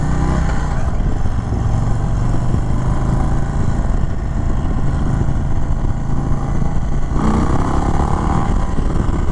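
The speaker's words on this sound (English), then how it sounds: "And let there be rock with the Thunderstroke motor." A 2021 Indian Chief Bobber Dark Horse motorcycle with a Thunderstroke engine and two-stage exhaust rumbles loudly and continuously up close, revving and burbling with a rough, pulsing low-end throb.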